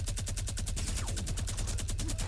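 Rapid, sustained minigun fire in the video game Fortnite, a dense unbroken rattle of evenly spaced shots running loud and continuous throughout with no pause.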